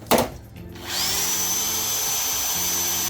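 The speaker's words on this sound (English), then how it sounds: "time to drill the 1/4-inch holes" A power drill spins up after a short knock and whines steadily, grinding as it bores holes through metal for Jeep TJ flat fenders, close and loud.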